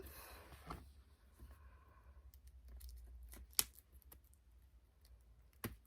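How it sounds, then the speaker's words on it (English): Cellophane wrapping being pulled off a vinyl record, quiet close crinkles and sharp snapping ticks scattered irregularly, with a couple of louder crisp pops against near silence. "So I'm going to go ahead and take this cellophane off."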